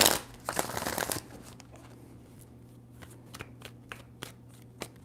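A deck of tarot cards is shuffled by hand: a dense riffle burst up front, then a series of separate, crisp card slaps and flicks at uneven intervals, close and fairly quiet.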